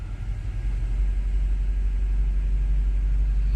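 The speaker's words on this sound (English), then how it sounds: "That burble would not come if I wouldn't press the exhaust button." BMW M5 Competition with the exhaust button engaged, a deep, steady low-frequency burble and rumble from a warm engine running close by, continuous and fairly loud with no speech.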